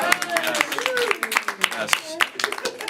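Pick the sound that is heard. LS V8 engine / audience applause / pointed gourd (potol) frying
audience applause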